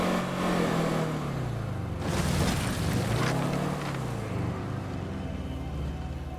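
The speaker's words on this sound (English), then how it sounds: "Doesn't help that I'm like driving a relatively noisy car." A noisy car engine in the video game State of Decay 2 drones steadily at close range, its pitch rising and falling as the vehicle speeds up and eases off, with rushing road noise throughout.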